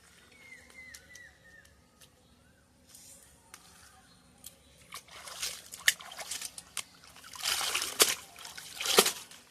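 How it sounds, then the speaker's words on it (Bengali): Amrul (sorrel) greens rinsed in pond water, with quiet ambience at first, then a series of louder splashes and sloshes building toward the end, with sharp bursts of water near the close. "এবারে আমি পুকুরে ধুয়ে নিয়ে আসছি শাকটা"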